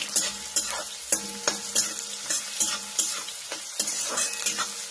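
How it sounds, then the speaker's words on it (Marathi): Onion frying in a pan with a steady sizzle while a spoon scrapes and stirs it in regular strokes, close and clear, with no voices. "कांदा चांगला भाजायचा आहे."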